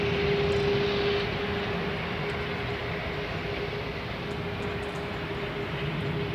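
A KLM jet airliner behind an Airbus A380 gives a steady, moderate engine rumble with a clear hum at first that fades after about a second, continuing evenly without speech.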